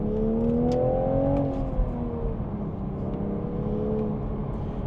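A 2026 Toyota GR Supra engine revs up at night, its tone climbing steadily for a second or so, then easing into a sustained drone. The sound is heard from inside the car with no talk.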